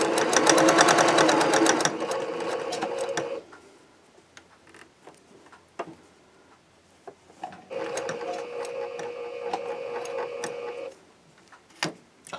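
A sewing machine stitches a quilt seam while 45-degree diamond points for a lone star quilt are matched. Two steady, fast-running bursts of stitching, close and fairly loud, are separated by a pause filled with soft handling clicks.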